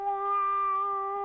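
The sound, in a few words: person imitating a cat meowing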